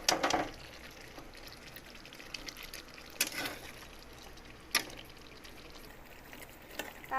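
Water poured into a pan of simmering restaurant-style chicken gravy, a soft liquid wash with a few brief louder splashes spread through the stretch, fairly quiet overall.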